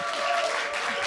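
A live-music audience at The Bedford applauds the band with a brief, steady wash of clapping and crowd noise.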